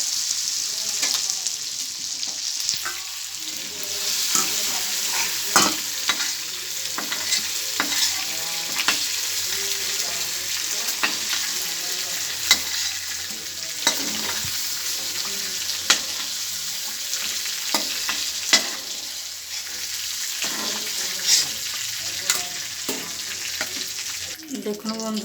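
Chicken pieces frying in a pan, a steady broadband sizzle with repeated scraping stir strokes, close and continuous for the whole stretch with a faint watery undertone and no talk.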